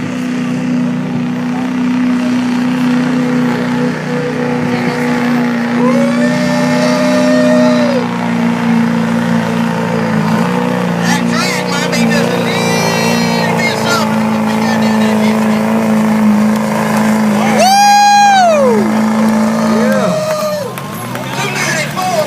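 A heavy 8,500-pound Chevy diesel pickup with a stack roars at a truck pull in Hampton, Georgia, its engine droning steadily loud, rising and falling in pitch as it strains, with a sharp high rev and whine near the end.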